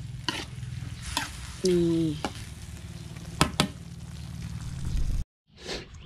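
Cooking in a home kitchen gives close, loud sizzling and scraping of food frying in a pan, with utensil clatter and a brief beep, before cutting to near silence; a few words are spoken.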